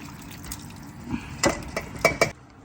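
Liquid is strained through a sieve into a bowl while making Thai curry, with soft splashing, dripping and a few sharp clinks of utensils against the bowl, building toward the end.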